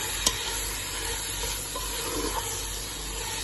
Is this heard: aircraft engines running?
no